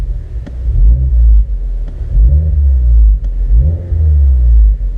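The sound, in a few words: 2016 Mazda 3 GT accelerating with Spintech Super Pro Street exhaust, from inside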